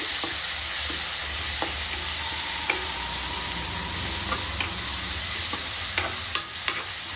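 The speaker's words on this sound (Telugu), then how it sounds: "ఇది కూడా మంచిగా ఫ్రై చేద్దాము." Moringa leaves frying in a pan for chutney, a steady hiss of sizzling oil broken by sharp ticks and taps of a stirring spoon, close and without any talking.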